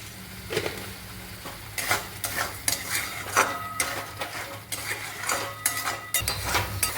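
Spice paste sautéing in oil with a little sugar for a chhana kofta curry, a sizzling bed under repeated metallic scrapes and clinks of a spoon against the pan, close and moderately loud, no speech.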